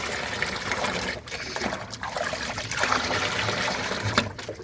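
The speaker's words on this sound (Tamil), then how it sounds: "இப்போ தண்ணி ஊற்றலாம்." Rice water and greens water pour onto potted plants, a close trickling and splashing stream with a few brief breaks as the flow shifts, heard alone.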